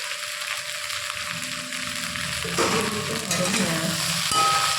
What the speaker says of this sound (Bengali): ভেন্ডিটা হালকা করে এই পেঁয়াজের সাথেই ভেজে নেবে।